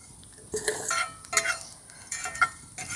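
Whole peppercorns, coriander and cumin dry-roasting on a hot tawa make intermittent light clinks, rattles and scrapes as they are stirred, close and quiet, with only a faint sizzle.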